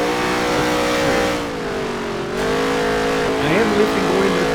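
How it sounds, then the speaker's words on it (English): A NASCAR race car in the NASCAR Heat 3 video game, its engine droning loud and steady, then dropping in pitch as the driver lifts into a corner before climbing again. "I am lifting going into the corner, which you can probably hear from the engine noise."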